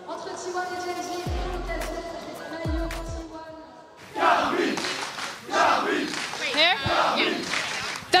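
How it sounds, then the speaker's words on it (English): A large crowd of fans at the League of Legends grand final esports event roars and cheers loudly, with blaring music and horn-like tones in the first half before the crowd noise swells and fills the arena. "The fans are already out en masse cheering for the teams"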